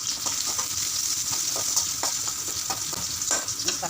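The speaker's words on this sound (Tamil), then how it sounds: "வெங்காயம் நல்லா வெந்துட்டு கருவேப்பிலை போட்டுடலாம்." Onions and curry leaves fry in oil in a pan, giving a continuous close sizzle broken by frequent rhythmic scrapes of stirring throughout.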